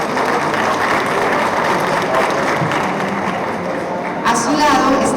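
Audience applause at a book launch during the Bogotá book fair, a continuous broad roar of clapping from a large crowd, fairly loud, with a few brighter claps standing out near the end.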